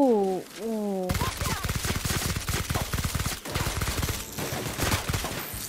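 Rapid automatic gunfire in The Outer Worlds bursts in loud and close after a brief tonal whine, then rattles on in dense repeated shots with short pauses.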